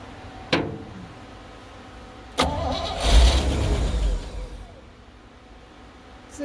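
A 1964 Chevy cab-over truck engine cranks in two short bursts, then catches and runs for about a second and a half before settling, loud and close, with no talk over it.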